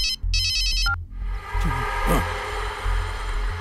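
A phone ringtone chimes briefly, followed by a loud, dense rush of music and noise that continues to the end.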